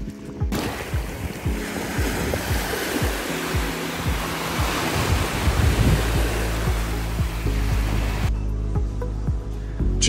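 Sea waves washing onto Saint-Jean-de-Monts beach in Vendée, France: a steady, loud roar of surf with some wind buffeting the microphone and no talking.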